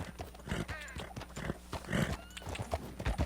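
A horse in the Red Dead Redemption II video game, its hooves clopping quickly and close while it lets out a short whinny, all crowded together in a few busy seconds.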